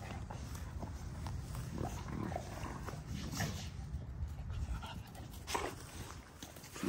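Several dogs play roughly together, with steady close panting, scuffling and occasional whimpers running through the whole stretch at moderate level.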